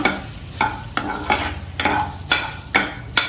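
Finely chopped garlic lightly sautéed in melted butter for white sauce penne pasta, a close sizzle broken by a regular series of spoon scrapes and stirs, with no talking.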